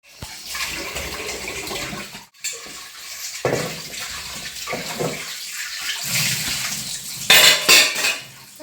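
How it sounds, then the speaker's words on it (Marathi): Dishes and tea utensils clatter and clink in a sink while water from a tap runs and splashes on and off, close and fairly loud. "चहा पाण्याची भांडी होते ना ते धुवून घेतली आणि बेसिंग वगैरे क्लीन करून घेते"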